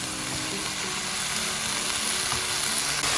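Chopped onion greens fry in a pan, a loud, unbroken sizzling hiss with faint stirring scrapes, close to the listener throughout.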